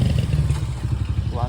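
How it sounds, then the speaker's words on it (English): Motorbikes passing along a busy downtown Guadalajara city street, close, rumbling engines that pulse and throb steadily under general street noise. "And tons of people on motorbikes."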